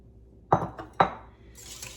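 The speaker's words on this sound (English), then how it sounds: "So I've added the 4 eggs to the egg yolks as well, and I'm just mixing it into" Eggs and egg yolks being mixed in a double-boiler bowl for lemon curd, heard as two distinct clinks of a utensil against the bowl followed by a faint hiss, with no talking.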